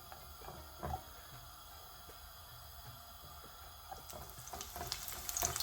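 Garlic cloves, ten to twelve of them, sizzle quietly in a pan of hot oil, a soft steady crackle with faint clinks and stirring that grow a little louder toward the end.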